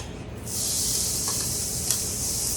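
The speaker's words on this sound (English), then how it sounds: "I added some olive oil to my pan, and now I'm going to add some onion." Onion sizzles in hot olive oil in a pan, a steady bright hiss that swells in after a short quieter start and holds loud and close, with a faint clink near the end.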